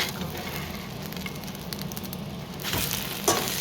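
Fish frying in a pan for breakfast, a steady close sizzle and crackle that swells slightly near the end with a brief louder spit.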